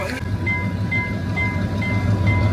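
A train passes nearby with a low steady rumble and faint rhythmic clicking, no talking.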